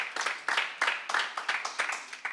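An audience at a bar association conference claps in a steady rhythmic beat, with repeated sharp bursts of applause close by and no talking over it.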